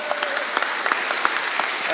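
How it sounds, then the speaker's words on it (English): An audience at a Ruby programming conference claps for a speaker, a dense, steady patter of many hands close and loud throughout, with no talk over it. "So a big applause to our first speaker, Onur."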